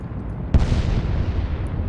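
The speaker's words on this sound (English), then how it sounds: "Explosions, never good." Naval gunfire explosion in the Atlantic Fleet video game, a single sharp loud boom followed by a long rumbling decay that fades slowly.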